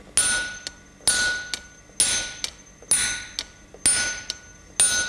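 Blacksmith and striker forging metal with hammers on a top fuller, loud ringing strikes in a regular rhythm, each heavy blow followed by a lighter tap, close and without talk.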